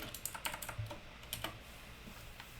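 Commands typed on a computer keyboard during a Minecraft Bedrock session, heard as a quick irregular burst of close key clicks with no talking.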